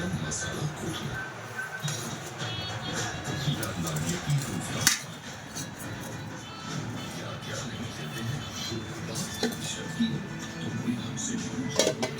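Rice being served onto a plate brings light clinks and scrapes of dishes and cutlery, low in level and scattered through the scene, with some talk nearby.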